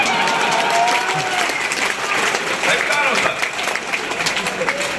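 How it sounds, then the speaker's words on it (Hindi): Steady, dense clapping from the audience at a Hindi poetry recital, with people at the back joining in. It is loud and continuous throughout, with a crowd murmur underneath. "अब पीछे वाले वही लोग ताली बजा रहे हैं।"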